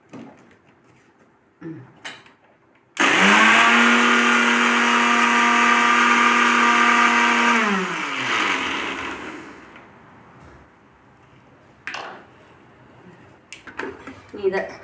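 A mixie with a worn-out washer roars loudly for about five seconds while grinding a ginger paste, then winds down as the motor slows; brief handling knocks come before and after.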